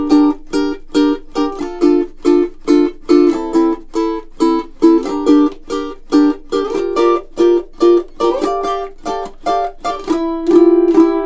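High G and baritone ukuleles play a funk rock duet together, with crisp, rhythmic strummed chords and picked riffs in a steady, punchy groove, loud and close with no voices.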